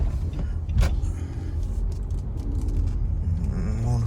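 A car pulls up at an auto repair shop: a low engine rumble and road noise from close by, with a brief whirring sweep partway through, steady and loud without talk.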